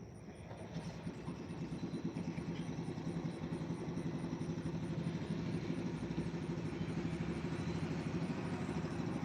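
A motorbike engine runs steadily, its rapid pulsing throb holding a rough, rattly idle-like rhythm that slowly gets a little louder, heard fairly faint and with no one talking.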